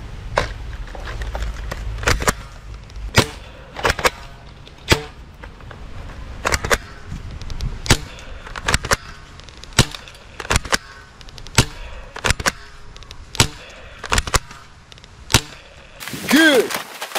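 Assault rifle fire in a video game, sharp single shots cracking at irregular intervals of about a second over a low background, ending in a brief louder burst.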